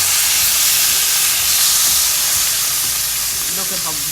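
A pork roast sears loudly in a hot pan as it is turned, a strong continuous hiss and sizzle close up with a slight shift near the end.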